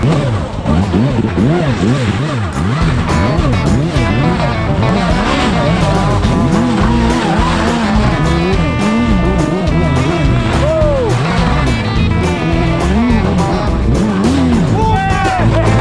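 A Suzuki Hayabusa motorcycle, roughly 270 kg, is ridden off-road and its engine revs hard and climbs repeatedly in loud, continuous up-and-down sweeps. Excited voices shout and talk over it the whole time.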